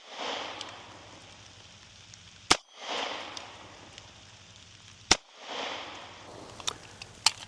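Three loud, sharp 9mm shots from an HK CC9 micro pistol loaded with 147gr rounds, each a crack followed by a brief echoing decay at an outdoor range, spaced a few seconds apart over low background hiss.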